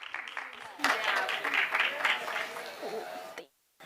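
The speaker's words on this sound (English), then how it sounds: "I'd like you to join me in giving her a massive round of applause as we welcome her onto our stage today" Audience applause rises to welcome a storyteller onto the stage at a COP28 event hangout, building from scattered claps into a full burst of clapping that fades and cuts off, with voices mingled beneath.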